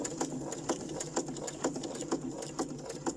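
Domestic sewing machine stitching fabric embellishments, a steady fast rhythmic clatter of needle strokes, close and continuous without talk.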